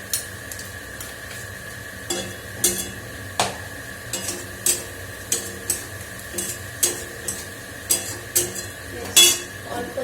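Onion, ginger and garlic fry in a pan with a low, steady sizzle, broken by a series of sharp scraping knocks of a spatula stirring against the pan at an irregular rhythm.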